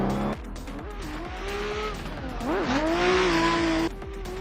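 BMW E30 drift car in a racing game, its engine note sweeping up and down as the tires squeal through a slide. Loud and close, with no talk.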